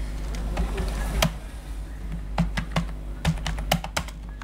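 Someone types on a computer keyboard, filling in an ID form, sparse clicky keystrokes at an uneven pace, close by and moderately quiet over a low background hum.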